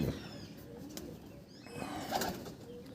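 Pigeons in a loft give soft, low coos with a faint flutter of wings, quiet and close against a hushed background.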